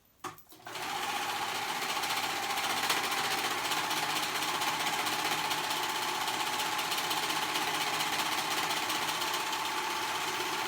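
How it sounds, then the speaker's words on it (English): A sewing machine runs steadily for about ten seconds, stitching the raw-edge leg seam of color-blocked kid's joggers after a brief start-up clatter. The close, even, continuous whir holds throughout. "And then sew that out. Right there at that raw edge."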